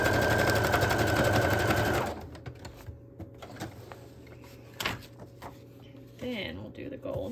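Sewing machine stitching straight and zigzag lines on fabric for a patchwork journal cover, a loud steady rapid whir for two seconds that stops, followed by quiet handling clicks and a brief restart near the end.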